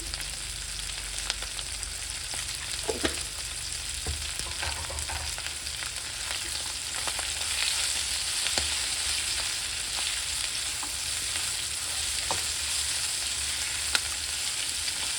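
Quail pieces frying with salt in a pan for a village-style curry, a steady dense sizzle with occasional scrapes and clicks of stirring, close and continuous, no talk.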